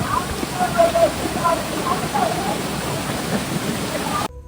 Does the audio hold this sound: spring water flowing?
yes